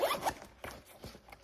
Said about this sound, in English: a mesh pocket right here with a zipper